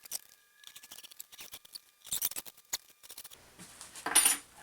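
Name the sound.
knife cutting along edge of DIY acoustic panel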